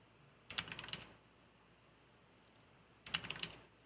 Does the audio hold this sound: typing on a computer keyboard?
yes